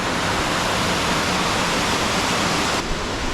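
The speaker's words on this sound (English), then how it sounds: "So we're just getting to the bottom of the waterfall. It's flowing pretty hard at the moment" Waterfall at Longshui Gorge flowing hard, heard from near its base as a loud, steady, broadband roar of crashing water with no pauses.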